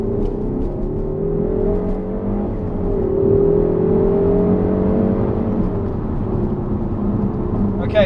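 A car fitted with a Comkotes TMSR3 K&N air intake runs up under steady load, its raspy induction rasp swelling mid-way as the engine accelerates, continuous and fairly close throughout.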